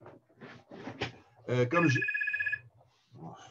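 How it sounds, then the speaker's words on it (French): A telephone rings briefly, one short burst of electronic trilling, in the middle of a man's French-language lecture indoors, with his speech before and after it. "il y a un téléphone qui sonne"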